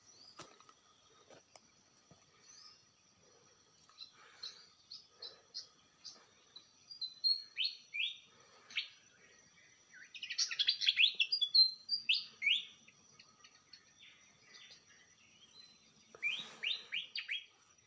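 Small birds chirp in a mountain forest in Indonesia, with short, quick bursts of high tweets at varying distances and a denser, louder flurry midway through, set against quiet background.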